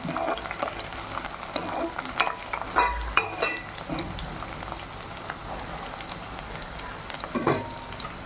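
Onions and chicken fry in a pan at home, with a steady sizzle under occasional scraping and stirring knocks from a utensil at close range.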